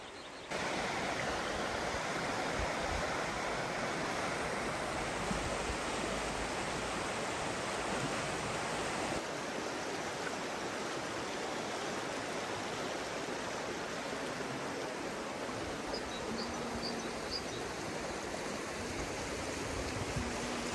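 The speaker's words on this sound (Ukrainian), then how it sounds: "А позаду мене річка Тиса." The Tisza river in Transcarpathia rushes steadily past in a broad, continuous roar of flowing water, loud and unbroken with no voices, just the constant wash of the current over stones.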